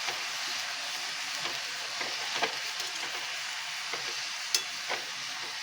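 Radish greens stir-fry (moolangi soppina palya) being stirred in a pan: a steady, soft sizzle with scattered light scrapes and clicks from the stirring.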